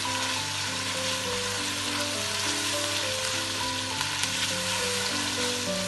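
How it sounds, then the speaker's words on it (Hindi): Onion with garlic and ginger sautéing in a pan, a dense continuous sizzle with a faint sustained background tone, steady and close with a couple of small clicks and no talking. "अब मैं इसमें लहसुन अदरक डालूंगी। हल्का सा मैं सौटे करूँगी।"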